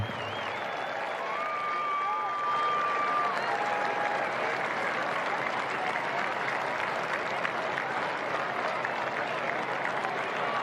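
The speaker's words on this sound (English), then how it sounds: "let's give a big round of applause to Highland Park Football Ring of Honor inductee Lance McElhaney." A stadium crowd at a Highland Park varsity football game applauds a Ring of Honor inductee, with steady sustained clapping and cheering throughout, plus faint whistles early on.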